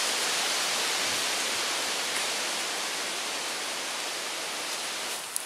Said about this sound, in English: Looks like a small gorge. You hear some small waterfalls.